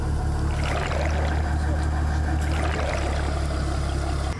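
Motorboat droning steadily on a river in the Chernobyl zone, its engine a constant close low rumble with water rushing beneath.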